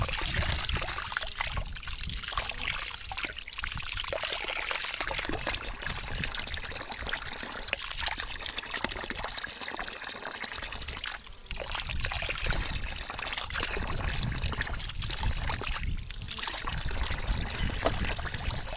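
Tap water pours steadily in a continuous rushing stream while crucian carp caught in a lake are washed, the flow splashing and shifting in tone for nearly twenty seconds.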